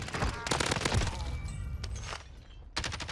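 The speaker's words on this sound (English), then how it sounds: "It's a whole team shooting at me." Heavy gunfire from a whole enemy team in the Warzone video game, a rapid fusillade of loud overlapping shots in bursts with brief lulls between volleys.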